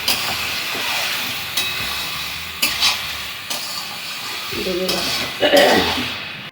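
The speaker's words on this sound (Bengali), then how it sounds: "এর মধ্যে আলুগুলো দিয়ে দিলাম। একটু মশলাগুলো কষা হোক।" Potatoes and spices fry in a pan for a mutton curry. A steady, loud, close hiss carries on throughout, broken by a few soft scrapes and bumps from stirring.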